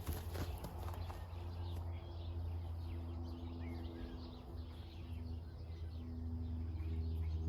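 Horses shifting and stepping on hard ground during a water-hose desensitizing session, with soft irregular hoof clops under steady low outdoor rumble and occasional bird calls in the background.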